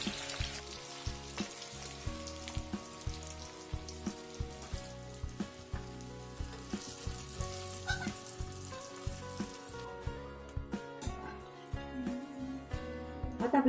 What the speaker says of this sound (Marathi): बटाटे फ्राय करून घेऊया।